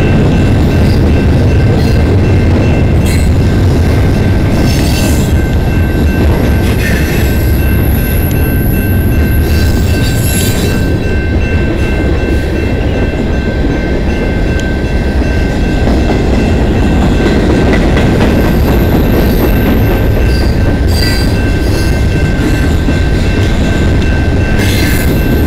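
A freight train rolls past on the Dundas Subdivision in London, Ontario, a loud steady rumble of wheels and railcars filling the whole stretch, with faint squeals and clatter on top.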